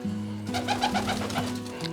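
Pigeons coo steadily in a soft, overlapping chorus inside a loft, with a low hum running underneath throughout.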